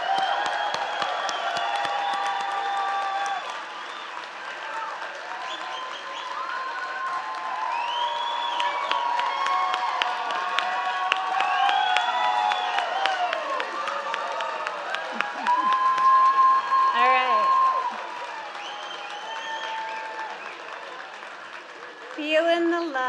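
A graduation audience at a spring MSW pinning and hooding ceremony cheers, whoops and claps in sustained crowd noise, with rising voices over scattered applause throughout.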